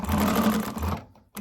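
A sewing machine runs steadily through fabric for about a second, then stops and leaves a short quiet gap before one last sharp click. Nobody speaks.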